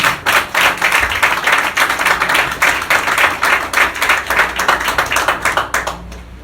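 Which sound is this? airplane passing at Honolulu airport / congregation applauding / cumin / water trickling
congregation applauding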